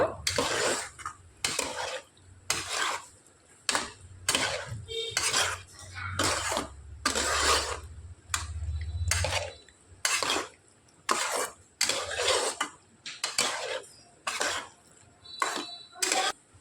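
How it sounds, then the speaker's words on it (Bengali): A spoon stirs Maggi masala into a snack in a pan with repeated loud scraping and clinking strokes in a regular rhythm, close by, with a brief cough-like sound partway through. "হাফ টেবিল চামচ পরিমাণে ম্যাগি মশলা নাড়াচাড়া করে খুব সুন্দর করে মিশিয়ে নেব"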